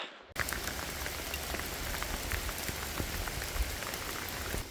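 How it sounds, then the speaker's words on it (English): Hail pelting down steadily during a countryside hike in Snowdonia, a dense, constant patter of small hard impacts close by, starting abruptly after a brief quiet moment and continuing without pause. "I mean, hail, really?"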